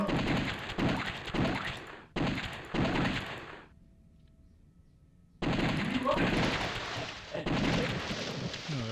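Rapid bursts of gunfire from The House of the Dead light-gun zombie shooter, loud and dense, broken by a short near-silent gap before the shooting resumes; someone talks excitedly over the gameplay.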